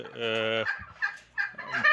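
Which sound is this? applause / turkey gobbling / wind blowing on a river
turkey gobbling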